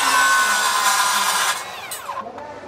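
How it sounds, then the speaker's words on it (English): A standard circular saw with a Diablo wood and metal blade trims rebar, making a loud, close, high-pitched whine that cuts off and winds down as the blade spins to a stop. "You can take a standard circular saw with a Diablo wood and metal blade. Just trim a couple of pieces"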